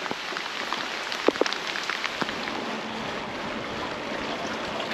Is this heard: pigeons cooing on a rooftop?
no